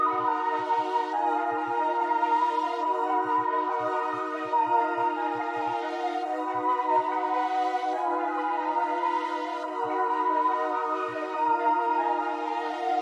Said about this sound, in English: So with our first pad sound, we got something that sounds like this.